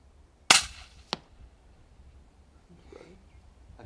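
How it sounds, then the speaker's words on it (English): An air rifle fires once at a dassie on a clifftop about 82 meters off, giving a sharp, loud crack followed about half a second later by a fainter impact knock, then quiet outdoor ambience. "So that was an 82 meter shot"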